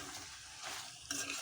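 A spatula scrapes and stirs chicken with spices in a sizzling pan, a short burst of close, gritty scraping over a soft fry.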